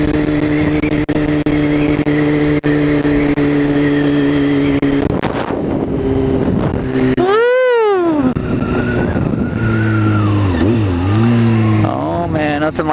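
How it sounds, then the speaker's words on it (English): Motorcycle on brand new tires accelerating and shifting through gears, a loud close engine note rising and falling with a sharp rev sweep midway, wind rushing throughout. "Nothing like some brand new tires on a motorcycle"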